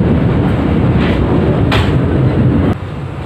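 The Kuto Jaya Selatan passenger train at a station gives off a steady heavy rumble with brief hissing bursts, the noise dropping off abruptly near the end.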